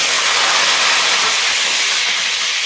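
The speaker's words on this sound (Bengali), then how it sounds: "আলুগুলো ভেজে নিই সুন্দর করে।" Potatoes fry in hot oil in a home kitchen, making a steady, loud, dense sizzling hiss that runs unbroken throughout.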